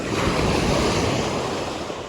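Steady roar of sea waves and surf, loud and continuous with wind buffeting the microphone, no voices heard.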